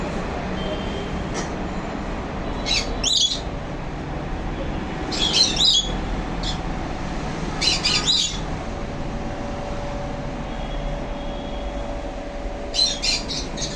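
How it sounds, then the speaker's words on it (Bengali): Birds at a roadside bird shop in Chattogram give sharp, repeated squawks in short bursts over a constant traffic rumble, with no talk. "ঘুরাই সুন্দর পাখি"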